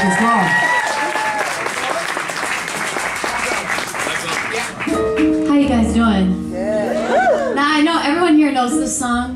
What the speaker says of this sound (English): Please give the wonderful Ann Martinez a round of applause out there.